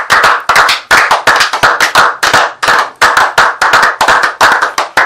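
Congregation clapping hands to acclaim the Lord at a church prayer service, a loud, dense burst of applause with rhythmic surges and crisp individual claps throughout, no voices.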